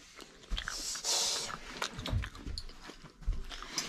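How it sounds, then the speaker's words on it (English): Someone chews wild ramps up close, with soft, irregular crunching and mouth noises, faint breaths and small movements in a quiet room. "I'm just chewing in front of the camera."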